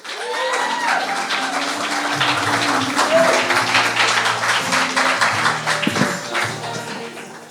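Audience applause greets performer Caitlin Piper at a live event, a steady, dense clapping that holds for several seconds with scattered taps and a faint tonal hum beneath.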